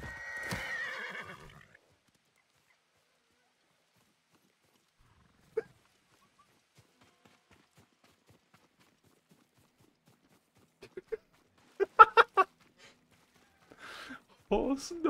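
Neighing horse in the video game Ghost of Tsushima, a sharp whinny opening the clip, followed by long quiet and then brief clustered thuds and game noises near the end, with no galloping clearly sustained.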